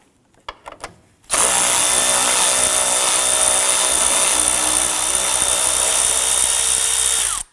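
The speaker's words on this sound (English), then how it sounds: "So we're just using our 10mm socket to go ahead and loosen and remove these" A power tool driving a 10mm socket whirs loudly and steadily for several seconds, loosening bolts on the active grille shutter of a 2015-2020 Ford F-150, after a few brief clicks and knocks.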